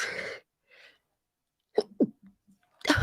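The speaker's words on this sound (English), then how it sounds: "I'm going to sneeze" A single close, sharp sneeze from a person who is still a bit sick and snuffly, with a short breath before it and a few small sniffs and noises after, no speech.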